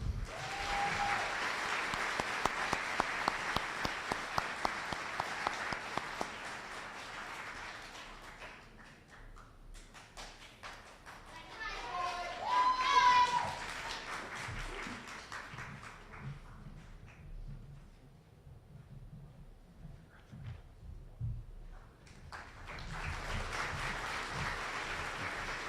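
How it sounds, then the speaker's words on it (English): Graduation audience applauding an award winner in a hall, a fairly quiet spread of clapping that fades into near silence midway, swells briefly, then returns as a second burst near the end. "Please give a round of applause to Matthew Hope."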